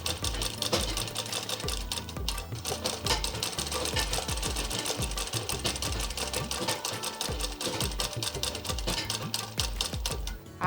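A sewing machine runs steadily while stitching a half-inch seam to set a sleeve into the armhole of a single-chun frock, its fast rhythmic needle chatter close and loud throughout with no voices.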